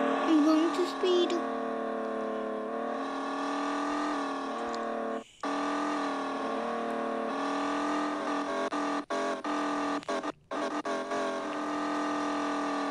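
Video game car engine droning steadily with layered harmonic whine as it builds speed, with brief cutouts and a voice talking over it throughout.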